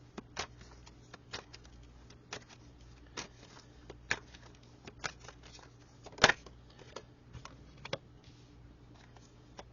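Tarot cards are shuffled by hand in soft, quiet riffles and taps, spaced irregularly with a few sharper snaps, close and alone in a quiet room.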